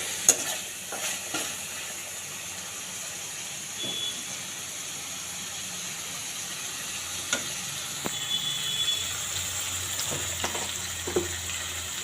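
Meat with paste frying gently in a pan over low heat, a soft steady sizzle with occasional stirring scrapes, close and quiet.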